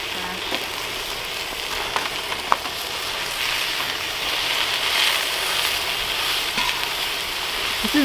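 Meats and vegetables sizzle steadily on a Tembo Tusk Skottle, a large cast-iron-style pan used outdoors on the trail. A few soft clicks of stirring utensils break through the constant frying hiss.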